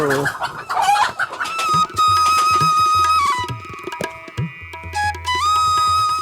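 Chickens cluck busily close by while a rooster crows with long, ringing calls, all over a lively farmyard background on a remote river char island of the Padma in Bangladesh.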